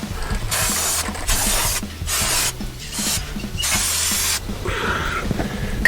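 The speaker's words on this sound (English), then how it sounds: "I'll spray it again now." A spray can hisses onto a greased bearing in several short bursts, each a loud close hiss separated by brief pauses.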